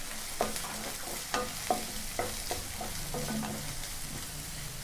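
Onion, dried red chilies and curry leaves sauté in a pan for beetroot poriyal, with a soft sizzle under regular spatula taps and scrapes, close and moderately quiet.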